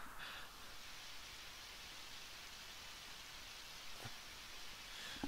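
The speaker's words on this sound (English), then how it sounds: "I don't need an umbrella. Rain never bothered me anyway." Steady soft rain from the Undertale video game, a constant hissing patter with no voices, faint and even throughout, with one brief tick near the end.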